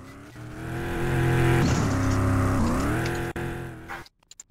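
An engine in the Roblox game Car Crusher Sim revving and whirring steadily as a car reverses, rising and falling in pitch, then cutting out abruptly into silence with a few faint clicks at the end.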